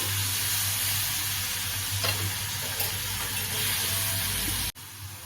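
Squid roasting in a hot pan gives a steady, loud, continuous sizzle with a faint stirring scrape partway through. The sound then cuts off abruptly near the end.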